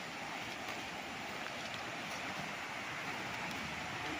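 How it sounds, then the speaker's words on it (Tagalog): A river beside a farm lot in Cavinti, Laguna rushes steadily, a dense, even wash of flowing water that stays close and constant with no pauses throughout. "Tingnan natin ang ilog. Dinig na dinig nyo yung lagas-lasong."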